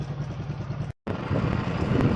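A motorcycle engine that has just started runs with a close, rough, pulsing idle, broken by a brief cutout before it continues.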